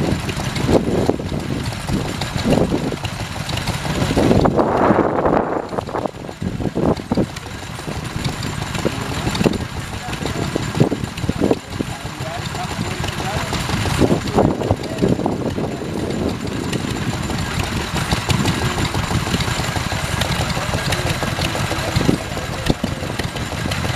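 A vintage stationary engine runs steadily at the Rural Pastimes 2019 rally, a continuous mid-pitched mechanical chug mixed with outdoor crowd noise and brief louder bursts from nearby machinery.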